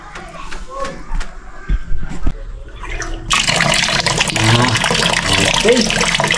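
Weak trickle of water from a tap, starting about halfway through as a steady broadband hiss that continues to the end, with talk and handling noises before it.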